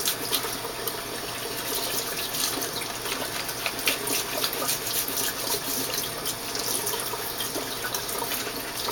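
A steady stream of tap water running while a hose is rinsed clean, a constant close hiss and splash with faint bubbling texture and no voices.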